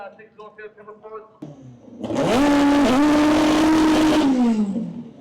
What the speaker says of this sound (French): Jonathan Gingras, the K-Series powered Honda Civic in the 302 beams,